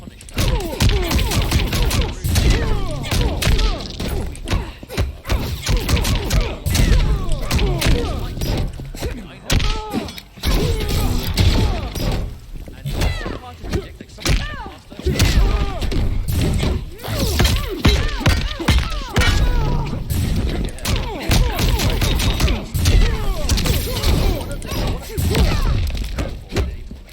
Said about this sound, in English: Digital Soldier Cassie gunshot is very punished